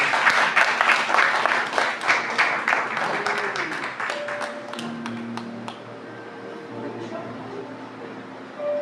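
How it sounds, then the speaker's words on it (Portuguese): Church congregation applauding during a family worship service, a dense patter of many hands clapping that thins out over several seconds while faint voices murmur underneath. "E as palmas que é para o Senhor Jesus, não é para mim."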